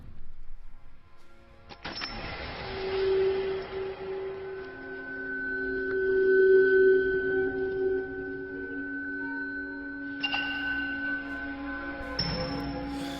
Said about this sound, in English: this is just a bullet casing hitting the ground